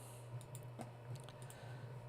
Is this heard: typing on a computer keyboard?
yes